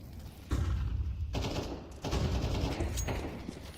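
Bursts of automatic gunfire in a Counter-Strike 2 pro match, spraying through a wall, heard as dense, fairly loud volleys in several waves with no talk over them.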